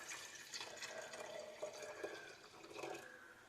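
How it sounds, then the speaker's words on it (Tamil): Cooled boiled milk, about half a litre, is poured into a glass jar holding kefir grains, giving a steady close liquid pouring and trickling sound for a few seconds with no talking. "மாற்றிய பிறகு காய்ச்சி சூடு ஆறின பால் ஒரு 1/2 லிட்டர் நம்ம அதில் விட்டுறோம்."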